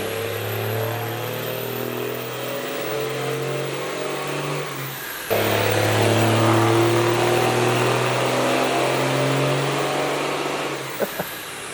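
A 12V Cummins diesel on a dyno with a fuel plate fitted, droning loudly under sustained load with strong low harmonics, a brief dip then a louder surge as it pulls hard, ending with a few sharp clicks.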